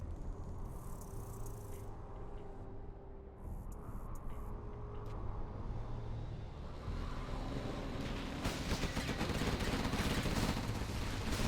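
A Gatling cannon in the Generals Zero Hour strategy game fires in rapid, dense bursts that grow louder and more continuous toward the end, over a background of battle noise and engine rumble.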